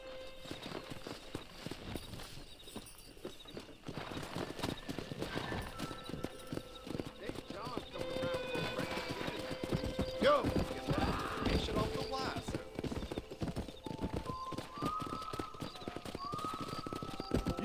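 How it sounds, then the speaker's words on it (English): Horse hooves clip-clopping across open ground among wild horses in the Red Dead Redemption western game, with dense, busy game ambience, a steady background score and talk running throughout. "That ranch hand said there's a pack of wild horses nearby."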